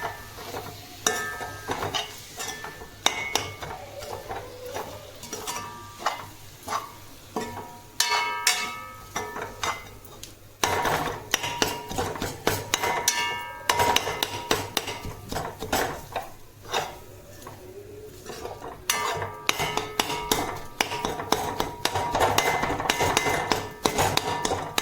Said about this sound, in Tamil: நல்லா மிக்ஸ் பண்ணி விட்டுக்கோங்க.